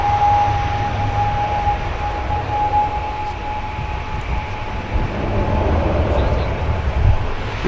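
An ATR turboprop airliner taking off at Manchester Airport, its engines making a steady, fairly loud drone with a thin propeller whine held throughout, heard from outside at a distance.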